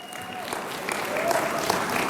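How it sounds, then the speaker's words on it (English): Applause for panelists at a luncheon on global California, a room of people clapping steadily and building slightly in loudness over a couple of seconds. "Can we get another round of applause for our panelists?"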